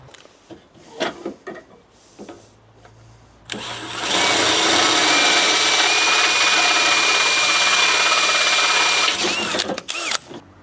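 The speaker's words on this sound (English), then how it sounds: "What we're going to do is change bits, go up a size to clear the screw that we're going to use." A power drill bores into a quarter-inch steel vehicle bumper, starting after some quiet handling noises into a loud, sustained grinding whine with a rising squeal, then stopping abruptly near the end.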